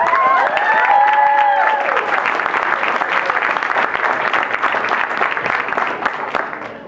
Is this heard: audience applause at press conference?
yes